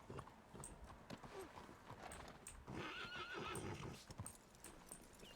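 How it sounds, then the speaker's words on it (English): A horse neighs in the RedM world, a whinny rising over a steady clip-clop of hooves and busy ambient game noise, with occasional faint voices in the background. "That horse is gonna kick somebody."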